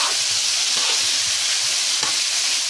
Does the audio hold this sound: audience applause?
no